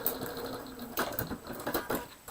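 A sewing machine taking a backward stitch on a quilt seam, a few short bursts of mechanical clatter, near and quiet, with no talk.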